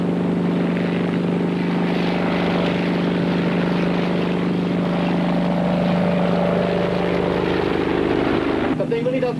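A helicopter drones steadily and loudly with a constant rotor and engine hum throughout, a brief change near the end.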